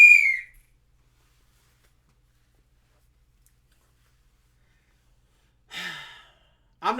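A brief shrill toy-like whistle opens, quickly fading into several seconds of silence before a voice begins speaking.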